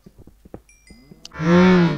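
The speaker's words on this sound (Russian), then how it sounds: "Почему я сейчас корову слышал?" A loud, drawn-out Minecraft cow moo rises after a few soft clicks and taps, standing alone near the end.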